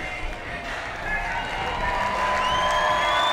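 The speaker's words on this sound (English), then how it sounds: "And a nice, nice round of applause." Baseball crowd at a Missions game in the stands, applauding and cheering after a snake is caught on the field; a broad, steady wash of clapping and crowd noise swelling slightly, with a commentator's voice over it.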